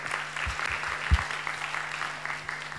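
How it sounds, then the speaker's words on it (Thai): Audience applause at a Thai fashion talk on Dries Van Noten and Antwerp: steady, moderately loud clapping from a seated crowd, continuous and even throughout. "ขอเสียงปรบมือด้วยครับ"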